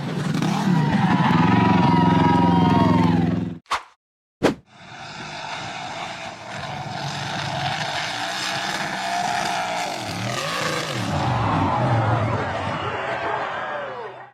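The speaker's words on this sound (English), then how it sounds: "The green-framed buggy accelerated hard up a slippery, rocky hill in the forest." A green-framed off-road buggy engine revs hard and roars as it climbs a slippery, rocky forest hill, loud and sustained with a brief cut-out midway before the engine noise resumes steadily.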